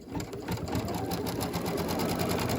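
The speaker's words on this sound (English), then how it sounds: "So we're going to flip it and fold it down. And it's going to stitch it down." An embroidery machine stitches fabric down on a dress boutique scene hanger project, giving a steady, fast, continuous mechanical hum with rapid needle rhythm throughout, close and alone.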